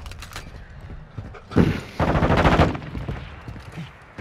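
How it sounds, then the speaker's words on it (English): Gunfire in the video game Call of Duty: Modern Warfare II. Rapid automatic bursts come in two loud clusters, with scattered lighter shots before and after, fairly close and without talk. "Taking enemy fire!"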